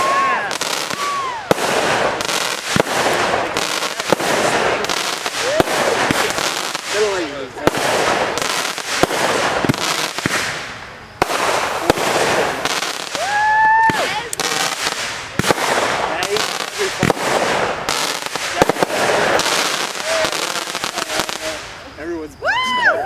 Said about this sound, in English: Fireworks for this.